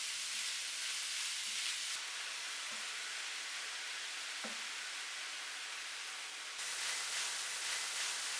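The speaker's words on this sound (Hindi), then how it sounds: "आप कीमे को तकरीबन 4 से 5 मिनट भूनेंगे।" Half a kilo of beef mince frying in a pan, a steady loud sizzling hiss that carries on without a break, with a couple of faint clinks partway through and no talk.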